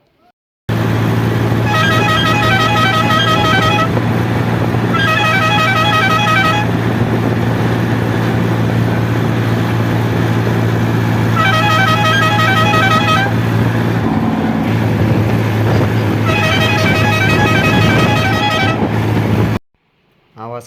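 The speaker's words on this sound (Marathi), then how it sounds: "आपल्या दाजींनी ट्रॅक्टरला हॉर्न एक नंबर बसविले" A newly fitted tractor horn sounds in four long blasts of a few seconds each, loud and close, over a steady engine rumble.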